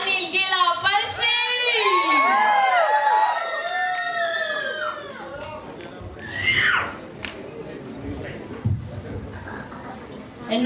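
An audience at a film preview event cheers a guest onto the stage, with shrill whoops and whistles at first, then a sustained wash of crowd noise and clapping with another loud burst of cheers partway through.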